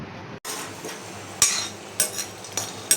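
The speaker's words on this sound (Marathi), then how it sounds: "शेंगदाणे चांगले खरपूस भाजून घेतले मी." Peanuts dry-roasting in a pan at home, with intermittent metallic scrapes and clinks of a spoon stirring against the pan, a few sharper knocks standing out over a low steady hiss.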